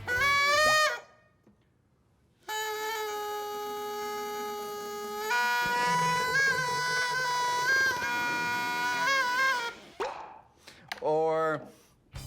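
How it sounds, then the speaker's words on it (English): A loud bubble made from dish soap and water gives a sustained, buzzing, horn-like tone lasting several seconds and shifting in pitch midway, set between brief bursts of a voice talking. "I like this one. I call it the loud bubble."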